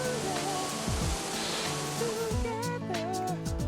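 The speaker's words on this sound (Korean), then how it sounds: "시원한 폭포 소리가 마음을 정화시켜주는 듯하다." A waterfall in a green forest park in Aomori, Japan, gives a steady, broad rush of falling water, with music playing over it.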